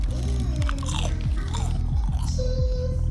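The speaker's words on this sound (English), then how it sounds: "Now listen to that crunch." Homemade Doritos chips crunch loudly and close up as they are bitten and chewed, a rapid series of sharp, dry crackles with no talk.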